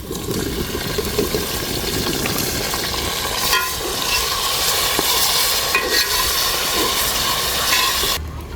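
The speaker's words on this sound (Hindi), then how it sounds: "अभी जी प्याज हमारे ब्राउन हो चुके हैं तो जी मैं मसाला शामिल कर रही हूँ।" Continuous sizzling and frying as spices, dried coriander, green chillies, garlic and ground ginger cook with browned onions in a hot pan, with occasional stirring scrapes, steady and close throughout.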